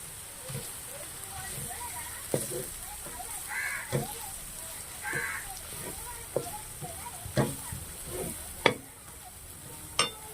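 Green chillies and ginger paste sizzle and fry with onions in a pan, a steady soft crackle broken by sharp stirring scrapes and knocks, with no talking.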